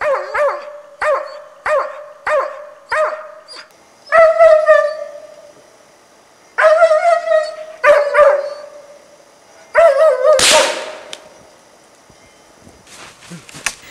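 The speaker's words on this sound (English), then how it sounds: "The dog barks at the animal without losing sight of it for a minute until the hunter arrives." A hunting dog barks at a sable up a tree in the autumn taiga, giving a run of sharp, evenly spaced barks and then longer, howling bays close by, with brief pauses between bursts.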